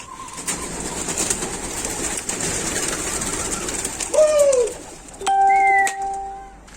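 Hundreds of pigeons cooing and flapping as they are released amid a busy outdoor hum, with a few sharp whistles near the end.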